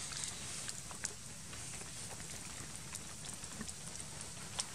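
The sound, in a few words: rain falling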